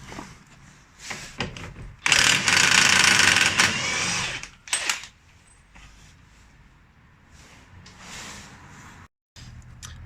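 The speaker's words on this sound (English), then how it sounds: "now I'm just going to be taking off this axle nut that holds the drive shaft in" Power tool, likely an impact wrench, removing the drive shaft axle nut on a 2001 Nissan Micra K11, with loud bursts of hammering rattle separated by quieter workshop clatter and metallic handling noises.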